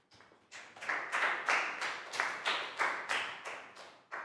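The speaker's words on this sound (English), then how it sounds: "Big round of applause for Pangpon." A class of pupils claps for a classmate in a school English lesson, a burst of about a dozen sharp, evenly spaced group claps ringing loud and close with no voices.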